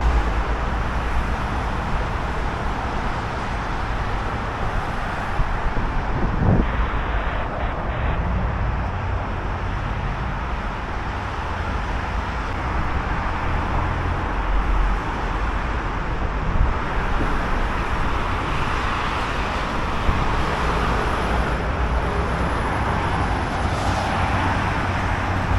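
Steady broadband traffic roar along FDR Drive in New York City, a continuous wash of passing cars with wind noise, fairly loud and unbroken throughout with no voices.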